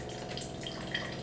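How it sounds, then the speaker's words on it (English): Steady stream of water pours from a P50 air-to-water unit's dispenser into a glass, a soft continuous trickle with faint drips, close and fairly quiet, with no voices. "there is now a steady flow of water"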